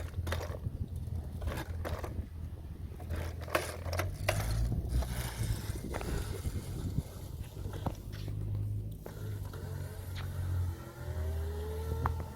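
Razor MX650 electric scooter upgraded with a 48 V 1800 W brushless motor kit, accelerating hard with steady motor whine and rattling drive noise, a rising tone toward the end.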